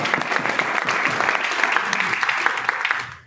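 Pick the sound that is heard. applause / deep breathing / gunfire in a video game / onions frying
applause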